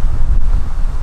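Gusty outdoor wind buffeting the microphone in a shaded spot, a steady low rumbling roar lasting about a second with no voices.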